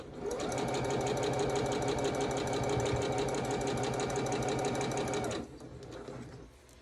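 A sewing machine runs steadily as it stitches the seams of a quilt block. The motor hum and rapid needle clatter hold for about five seconds, then stop abruptly, leaving faint handling noise.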